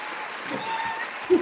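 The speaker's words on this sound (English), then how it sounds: "Warm round of applause." A short canned applause sound effect, a burst of clapping played on a health talk show, fairly quiet and over in about a second, with a louder thump near the end.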